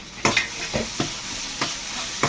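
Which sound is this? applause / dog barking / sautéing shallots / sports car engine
sautéing shallots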